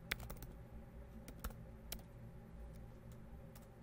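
Keys clack on a computer keyboard while text is entered into a Qt GUI window, a run of close, crisp taps with a few sharper strokes over a steady low hum, no voices.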